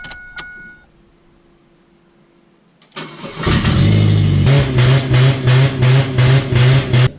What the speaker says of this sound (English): you're going to want to start the engine of the vehicle